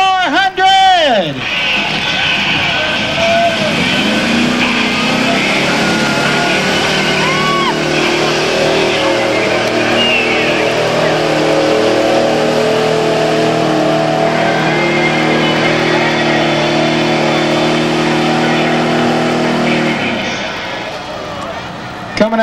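A 1966 Ford race car with a 400 engine on gumball tires revs and runs steadily for about twenty seconds, a loud, sustained engine drone rising at the start and fading near the end, with a voice talking over part of it.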